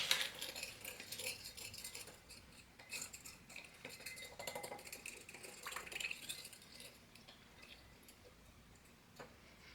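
Citric acid granules are stirred into filtered water in a bowl, giving faint, steady clinking and gritty scraping of a utensil against the bowl, soft and close, with no talking.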